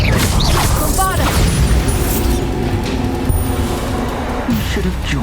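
Bombarda blasting spell in Hogwarts Legacy, a loud booming explosion with rumbling debris and magical shimmer, followed by lingering crackles and low rumble in the game's soundscape.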